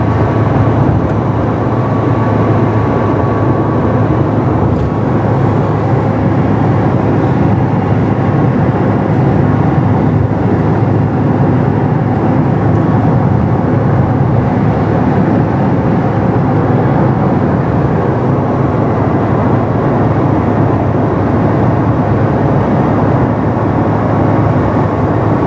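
A car drives fast on a road toward Bangkok, with a steady, loud, continuous road and engine rumble plus broadband tire noise heard from inside the vehicle. It is unbroken throughout, with no talking.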